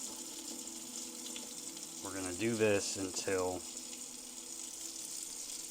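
Cloudy rinse water pours and splashes steadily from a pot of rice into a sink while a person speaks briefly over it.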